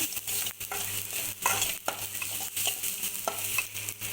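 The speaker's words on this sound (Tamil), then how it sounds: "ஒரு ஸ்பூன் சீரகத்தூள் போட்டு நல்லா ஃப்ரை பண்ணிக்கோங்க" Ground cumin sizzles in a hot pan while a spoon stirs and scrapes in irregular strokes, close and fairly quiet, with no talking.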